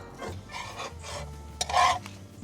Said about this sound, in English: We're just gonna do all 4 right into our nonstick pan. Just looking for a nice light scramble on these eggs.